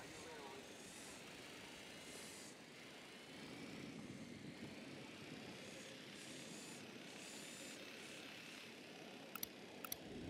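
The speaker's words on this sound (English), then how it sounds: "The drone is up." A drone hovers overhead in a tactical shooter video game, a steady broadband drone-and-propeller hum that runs the whole time under dense game ambience, with a few sharp clicks near the end.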